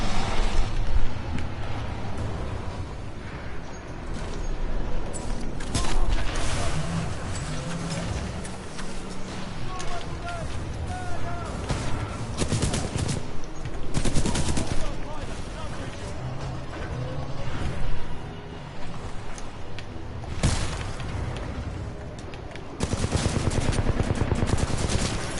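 Gunfire in the video game Titanfall 2, dense bursts of machine-gun style shots and impacts running through the scene alongside game noise and occasional talk.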